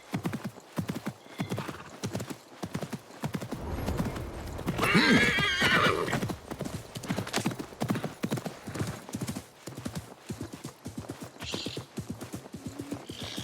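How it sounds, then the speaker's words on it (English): Horse hooves clip-clop steadily through a video game scene as the mount neighs and whinnies loudly mid-clip, with occasional speech under the rhythmic footfalls. "This guy's super loud when he's on his horse."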